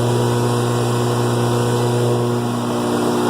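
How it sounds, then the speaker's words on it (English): Dry bulk pneumatic blower running on a Hydrochem truck, driven off the PTO, a loud steady droning hum with a constant whine on top, close by and alone. "So you can hear the dry bulk blower turning."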